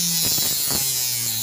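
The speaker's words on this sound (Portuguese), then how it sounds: "Agora eu venho aí com a máquina aí cortando mais na beiradinha" A Nakasaki NK211 rotary tool cutting sheet metal near the edge gives a steady high whine with a few brief grinding surges, up close, with no talk.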